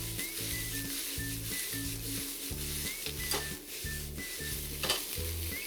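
Pork fried rice sizzles and crackles in a hot wok while being stirred with spring onions, with a rhythmic scraping of the spatula against the pan.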